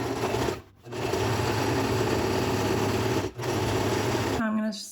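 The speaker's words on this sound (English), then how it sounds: "So I'm gonna sew this seam right here." A sewing machine stitches a clothing seam, its steady rapid whirring running loud and continuous with two brief pauses before it stops near the end.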